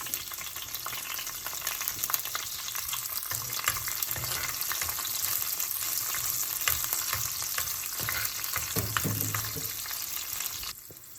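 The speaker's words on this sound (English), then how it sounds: "Once the green chilies are sauteed nicely" Green chilies and methi seeds sizzle steadily in hot oil in a pan while a Kerala-style avoli (pomfret) fish curry is being prepared, a continuous close frying crackle with occasional stirring scrapes and no talking.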